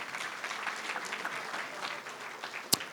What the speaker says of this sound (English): Oh, you clap for that.